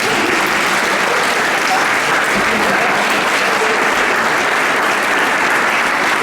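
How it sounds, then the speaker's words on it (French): At an exhibition opening in Paris, the crowd gives loud, continuous applause, a thick, even roar of clapping that holds steady throughout. "Vous pouvez l'applaudir aussi."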